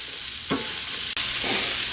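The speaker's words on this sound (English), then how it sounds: "Right in that same pan. Now you cook your veggies to the way you like them" Vegetables cook al dente in a pan already used for Cajun Alfredo, giving a steady close sizzle and frying hiss with a couple of brief stirring scrapes, no voices.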